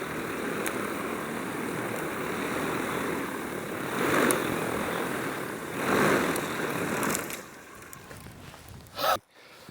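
The propellers of a massive heavy-lift drone built to carry 100 kg roar in a steady, broad whirring wash that swells twice, then cuts off abruptly with a brief thump.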